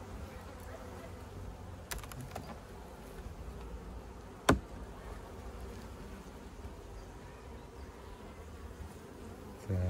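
Honeybees buzzing around an opened hive, a steady low droning hum of many bees close by, with a sharp click partway through and faint handling noises.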